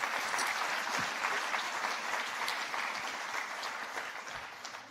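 An audience at an infrastructure conference applauds a keynote speech, a steady wash of many hands clapping at moderate distance that slowly tapers off.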